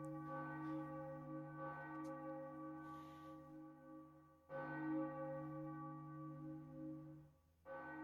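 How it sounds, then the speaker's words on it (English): A temple bell rings in the Castlevania arcade game, with deep resonant strikes that sustain and decay, struck again about midway and once more near the end, sounding alone without talk. "The sound of the ringing temple bell seemed to clear the dew"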